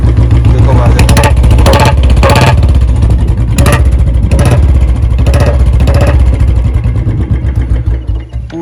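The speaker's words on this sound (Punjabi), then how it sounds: "ਬੁਲਟ ਦੀ ਸਾਊਂਡ ਚੈੱਕ ਕਰੋ ਪਹਿਲੀ ਕਿੱਕ ਸਟਾਰਟ ਹੋ ਗਿਆ" A Royal Enfield Bullet motorcycle, kick-started first try, thumps loudly with a deep, rhythmic idle and a few sharp revs, close by, fading slightly near the end.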